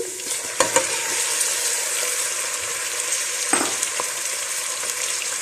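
Mutton sizzling in a karahi over lightly browned garlic and ginger, a loud continuous fry broken by a few sharp stirring knocks near the start and middle.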